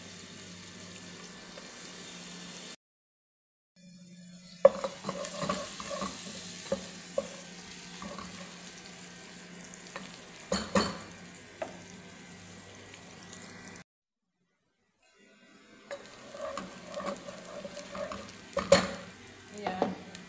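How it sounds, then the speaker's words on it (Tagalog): Garlic frying quietly in a pan, a faint sizzle broken by scattered clinks and stirring knocks, with two short stretches of near silence. "Tapos, ilalagay natin ang bawang,"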